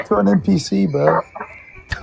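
Wild chickens clucking nearby in a city street setting, a run of short rhythmic clucks and squawks with people talking over them.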